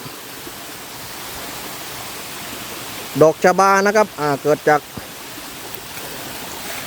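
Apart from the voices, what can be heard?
small forest waterfall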